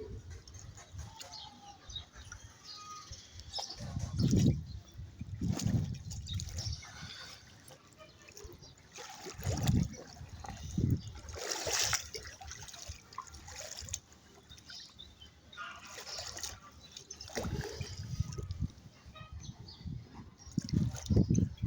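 Rainwater runs and trickles in a steady, soft wash after a rainfall in Qatar, with faint bird calls and occasional louder splashes rising above the flow.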